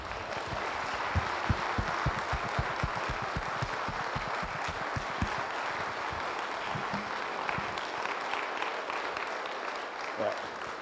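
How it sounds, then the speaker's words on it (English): At a civic chorale concert, the audience gives the choir singers a long, dense round of applause; many hands clap steadily and close for about ten seconds, tapering slightly near the end. "please give an extra round of applause to the singers"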